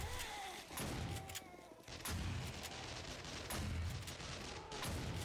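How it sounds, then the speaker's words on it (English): Dense, rapid gunfire from the video game 7 Days to Die during a blood moon horde night, loud continuous bursts and booms layered over each other with no pauses. "You can hear the gunfire of Joe as we get a bit closer"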